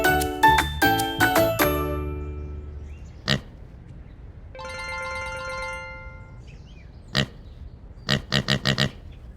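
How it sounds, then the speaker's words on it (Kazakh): A farm pig gives a few short, snorting grunts, spaced apart and then in a quick cluster near the end, after an opening run of bright chiming tones and a sustained electronic tone. "Шошқа."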